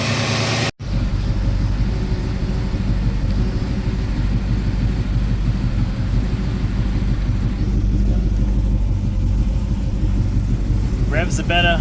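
A car engine idling steadily after its idle screw was adjusted, a continuous low rumble that holds even throughout, with a brief dropout near the start.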